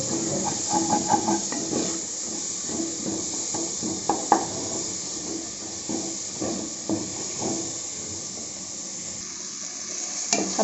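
Small tomatoes sauté in masala for a Chettinad-style mutton curry, a steady close sizzle and hiss with scattered stirring scrapes and pan clinks throughout.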